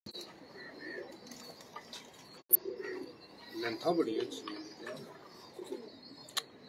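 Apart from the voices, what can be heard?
pigeons cooing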